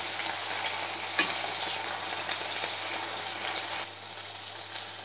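Stuffed green chilies, Kathiyawadi-style bharwa mirch, frying in oil in a pan, giving a steady close hiss and crackle with a few clatters as they are turned, no talking.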